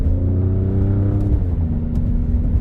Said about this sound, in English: you can hear how aggressive the shifts are